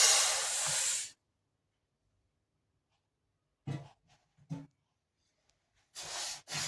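Urad dal roasting in a hot pan on the stove gives a loud burst of hissing, rustling sizzle, then silence broken by short scraping rustles and another hissing burst at the end.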